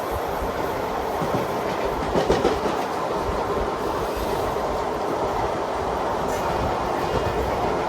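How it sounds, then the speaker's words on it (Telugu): The Jammu Tawi–Tirupati Humsafar Express rolls past steadily and loudly, a continuous rumble of wagons with rhythmic clickety-clack from the wheels over rail joints and a faint squeal now and then. "జమ్మూ తావి తిరుపతి హంసఫర్ ఎక్స్ప్రెస్."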